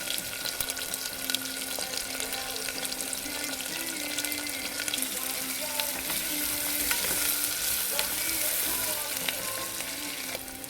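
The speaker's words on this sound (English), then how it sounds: "Then I will deep fry onions, red onions, and some ginger and garlic, and some cumin seeds." Red onions, ginger, garlic and cumin seeds frying in avocado oil for a vegetable curry, a dense, steady close sizzle broken by scattered clicks and scrapes of stirring, with a faint tonal hum underneath and no talking.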